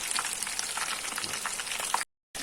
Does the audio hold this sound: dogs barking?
no